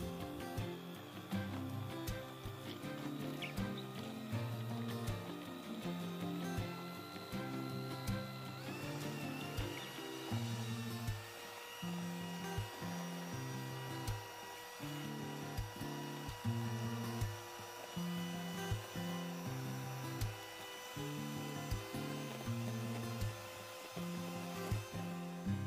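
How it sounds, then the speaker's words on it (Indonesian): An electric mixer beats eggs, sugar and SP emulsifier for a steamed chocolate sponge cake, giving a steady, close, continuous motor whir with a pulsing low rhythm and no talking. "Setelah itu kita mixer bahan-bahan ini sampai kental berjejak."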